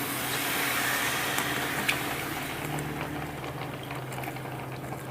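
Raw banana slices frying in a pan as water is sprinkled in, giving a steady bubbling sizzle with a few sharp crackles, fairly close.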